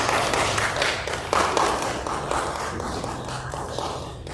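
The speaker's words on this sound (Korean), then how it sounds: "힘찬 격려 박수 한번 쳐드렸으면 좋겠습니다." A church congregation claps in encouragement for the fathers on Father's Day, a steady, moderately loud patter of many hands filling the room and fading slightly toward the end.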